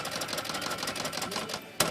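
An Erika manual typewriter works its power space mechanism, giving rapid rattling mechanical clatter followed by a brief pause and then a sharp, loud clack near the end.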